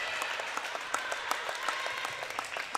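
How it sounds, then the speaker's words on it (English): Volleyball fans in a school gym clap steadily at set point during a Gordon-Rushville versus Kimball tournament match, a dense crowd patter of scattered claps continuing throughout. "The Mustang faithful will clap."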